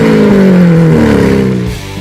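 A 6.5-liter V12 car engine rated at 750 horsepower roars loudly and close, its deep tone sweeping downward as it revs, then easing off near the end.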